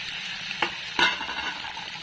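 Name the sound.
boiled mashed eggplant added to a frying pan and stirred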